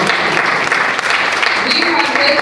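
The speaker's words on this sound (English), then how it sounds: "Y'all better clap it up." A crowd at a public meeting of the Maryland Commission on African American History and Culture claps loudly and continuously for museum staff, with voices chattering under the applause.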